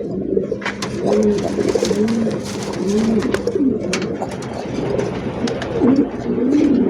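Racer pigeons with pomegranate-coloured eyes coo in a pigeon loft on a farm, a steady chorus of soft, rolling coos repeating close by with no talk over it.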